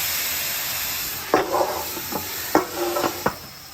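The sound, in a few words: frying in beef tallow on a Blackstone griddle, water steaming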